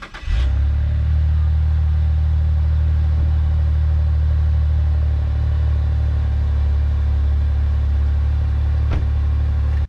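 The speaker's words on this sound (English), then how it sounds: "here's for the last cold startup since it's 100 degrees outside" A 2008 Saab 9-3 TurboX engine starts cold and settles into a steady, loud low rumble at idle close by, with no talking over it.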